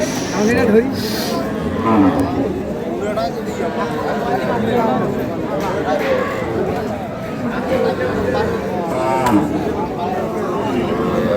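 Dairy cows, Sahiwal, Sindhi and local breeds with calves, moo repeatedly at a busy cattle market, lowing calls rising over constant crowd chatter and nearby talk.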